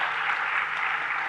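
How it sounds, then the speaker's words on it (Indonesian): An audience claps for Mas Ernest in a brief, steady burst of applause. "silakan boleh tepuk tangan untuk Mas Ernest"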